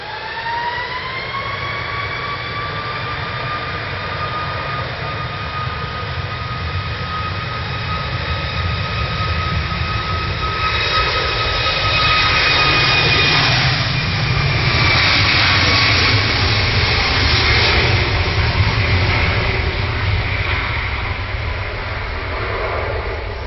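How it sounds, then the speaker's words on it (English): A Sun Express Boeing 737 MAX 8 bound for Izmir at Manchester Airport, loud sustained jet engine roar with a steady high whine, swelling slightly louder midway as it powers up or passes close. "Sun Express 737 MAX 8 to Izmir."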